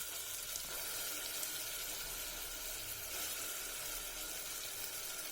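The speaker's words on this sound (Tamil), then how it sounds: "இந்த வெங்காயம் மிளகாய் இந்த விழுதெல்லாம் எண்ணெயிலேயே நல்லா வணங்கி வரட்டுங்க" Onion, chili and ground paste sauté in oil for an egg biryani, a soft, steady sizzling hiss heard close but fairly quiet, unbroken and without voices.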